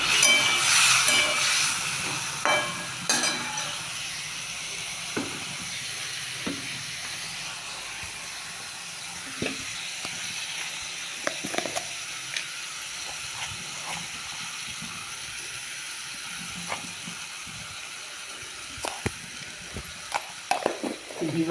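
Masala in a covered pan hisses softly after water is added, a faint, steady sizzle with occasional small clicks and pops; there is no talk.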